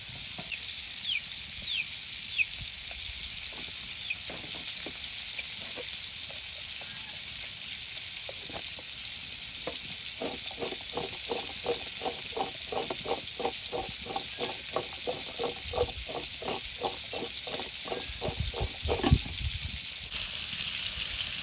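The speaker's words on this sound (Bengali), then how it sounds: "হালকা একটু ভেজে নিব একটু হলুদ আর লবণ দিয়ে একটু ভেজে নিব" Cauliflower fries in oil with turmeric and salt, giving a steady bright sizzle throughout, with a run of quick rhythmic scraping or stirring strokes through the middle section under the constant frying hiss.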